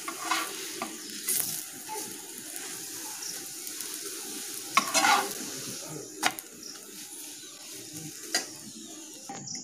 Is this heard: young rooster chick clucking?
no